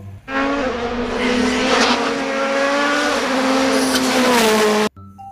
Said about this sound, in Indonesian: Kalau yang ini mobil balap teman-teman.